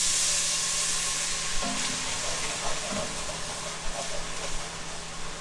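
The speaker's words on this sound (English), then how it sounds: "we're about to add some white wine." White wine hits a hot pan while braised chicken cooks and deglazes it, producing a steady sizzle and frying hiss with a few soft stirring knocks partway through.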